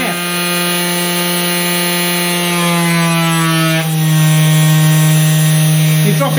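A 3018 CNC spindle motor spins at 16,000 RPM, its cooling fan producing a loud, steady, close whine with strong tonal harmonics that shifts pitch slightly partway through.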